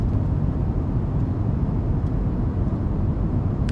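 Steady low cockpit rumble of a Fenix A320 with IAE engines on final approach in Microsoft Flight Simulator, a continuous loud drone as the flaps extend to full, with no distinct mechanical whine standing out.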